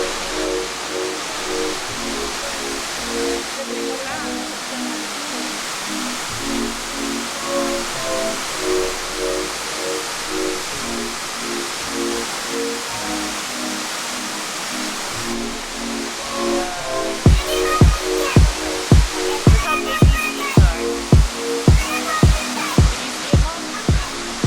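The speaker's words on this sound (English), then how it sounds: "We're at the big waterfall." Steady broadband roar of the big waterfall at Kuang Si Falls in Laos, a constant close wash of falling water, joined later by a series of sharp rhythmic knocks over the rushing sound.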